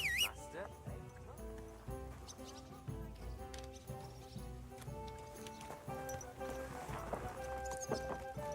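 Rhythmic hoof clip-clops of a horse trot along under music and people talking in Kingdom Come: Deliverance II, with a whinny rising briefly near the start.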